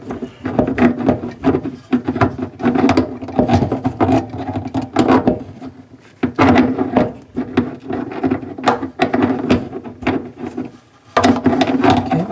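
A faucet nut is loosened under a sink with a basin wrench, giving a busy run of scraping, clicking and knocking of metal on metal, close up and fairly loud, with short pauses between turns.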